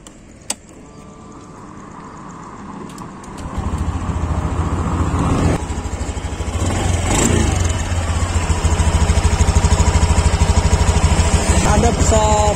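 A normal-condition Honda Beat Deluxe scooter engine starts with a click and settles into a steady close-up idle, then picks up with several revs and a louder, rougher running stretch toward the end, with no talk.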